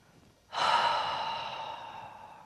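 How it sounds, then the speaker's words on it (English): A single long, soft exhale through an open mouth during a gentle Pilates session, starting abruptly and fading slowly over about two seconds in a quiet room. "And then open your mouth and just let the air go."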